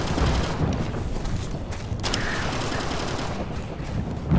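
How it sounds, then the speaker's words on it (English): Gunfire in Operation Flashpoint: Red River, sustained and dense, with rapid automatic fire blending into a loud, continuous rumble of combat. "Alpha team, we're getting shot at!"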